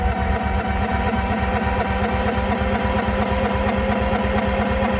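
A Honda EU6500 generator runs in freezing weather, its engine holding a steady, loud, even chug throughout with no break and no voices.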